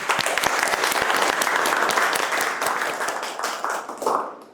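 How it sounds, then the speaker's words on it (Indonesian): Students clap at the close of a university lecture at STKIP PGRI Lumajang, a steady burst of loud, close applause that fades out near the end, with no talking over it. "Tepuk tangan dulu untuk hari ini"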